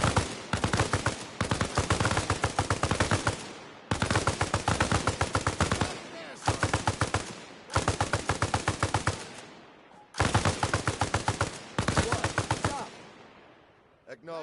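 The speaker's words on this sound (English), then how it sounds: "Have your boy lay down suppressive fire" Machine gun laying down suppressive fire in Arma Reforger on PS5, long loud automatic bursts separated by brief pauses, close and harsh, with the final burst trailing off into fading echo.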